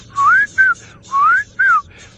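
A Klaas's cuckoo gives two pairs of rising, whistled notes, clear and fairly close, with a brief pause between the pairs.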